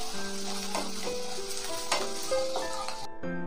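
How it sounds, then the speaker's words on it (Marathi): Onions frying in a pan for pav bhaji: a steady sizzle with occasional stirring scrapes under sustained background music. "कांदा मध्यम आचेवर फ्राय करत ठेवून"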